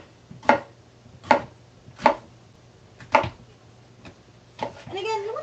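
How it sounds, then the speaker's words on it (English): A sharp knife chops a pepper on a board in a home kitchen, four loud distinct thuds at an even pace followed by a softer cut and a short scrape at the end, with faint background hum. "Now I'm going to chop my pepper."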